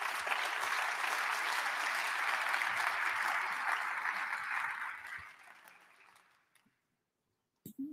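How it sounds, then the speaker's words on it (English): Applause from a symposium audience for a panelist, a full, sustained patter of many hands that fades out after about five seconds, followed by silence and a brief bump of noise. "Let's have a round of applause for Chris."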